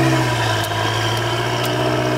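A 2018 Audi RS5 with a 2.9-litre twin-turbo V6 idles close by, a steady, even hum with a few faint ticks over it and no talking.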